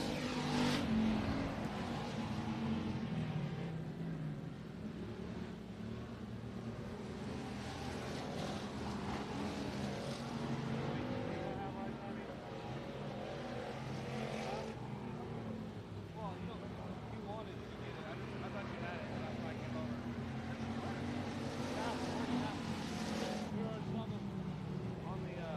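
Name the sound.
sprint cars racing on the final lap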